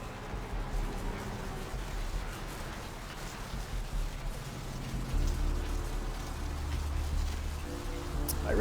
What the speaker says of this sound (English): I really don't think it actually rains this much in Santa Monica.